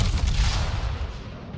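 Heavy battleship main guns fire a salvo in World of Warships, giving a deep, booming low-end blast that decays over about a second and a half, with no voices over it.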